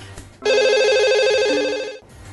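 Telephone ringing with one sustained electronic warbling trill, loud and close, lasting about a second and a half before stopping, with faint background sounds around it.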